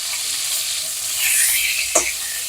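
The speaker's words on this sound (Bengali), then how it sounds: "কড়াই পেঁয়াজ দিয়েছিল মাছের ঝালটার জন্য পেঁয়াজ ভাজা হয়ে গেছে" Onions frying in a wok for a fish curry give a steady, close hiss of sizzling oil with a brief stirring scrape near the end, no voices.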